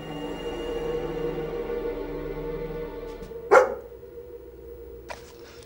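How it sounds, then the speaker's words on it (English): A dog howls at night, a sustained tonal wail for several seconds before one sharp, loud burst and a brief fainter cry, with nothing else heard. "My husband and I can't sleep with that dog howling like that."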